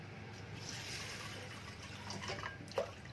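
Water trickles and sloshes as tur dal is rinsed in a vessel, a steady low wash with a brief louder splash near the end, no talking.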